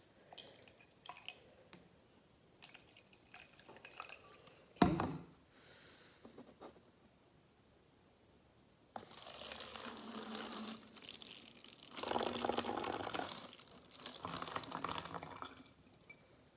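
Vinegar is poured from a measuring cup into a plastic water bottle, soft drips and clicks first, then two bursts of splashing liquid filling the bottle, faint and close with no voices.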